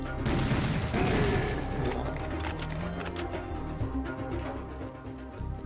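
Revolver gunfire in the video game Serious Sam crackles in rapid, repeated shots amid combat noise, fairly loud and continuous throughout.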